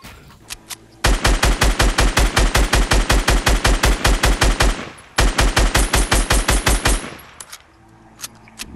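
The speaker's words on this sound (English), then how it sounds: "I'm about to start shooting at it right now." Fortnite gunfire rattles out in two long, rapid automatic bursts of loud, evenly spaced shots, with a brief pause between them and scattered single shots around the edges.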